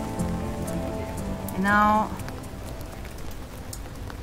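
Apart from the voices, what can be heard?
rain falling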